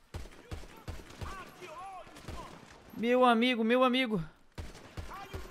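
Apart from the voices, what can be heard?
gunfire from a guard shooting in GTA 5 Zombies, from a video game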